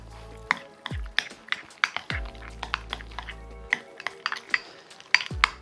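Spinach, basil and cheese tortellini filling being stirred in a bowl: irregular clinks and scrapes of a utensil against the dish, fairly quiet and close, with a few sharper taps and no talking.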